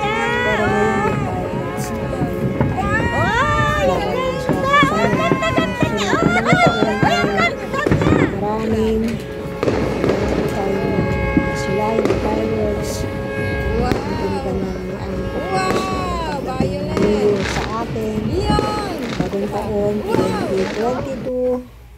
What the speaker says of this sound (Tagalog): Pero ngayon yung fireworks.